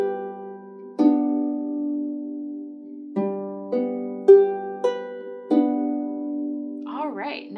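A harp plays a simple beginner song section, with slow plucked notes ringing out one after another in a sparse, gentle rhythm, and a brief swirl of higher sound at the end.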